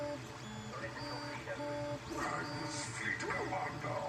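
A Creality CR10S 3D printer printing a Dalek, with stepper motors whining in shifting tones and steady mechanical hum as the head moves, continuous and moderately close with no talking.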